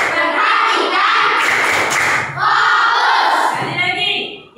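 A classroom of children doing the "tepuk fokus" routine, chanting loudly together in unison with rhythmic group clapping mixed into the chant, close and continuous, with a brief pause midway.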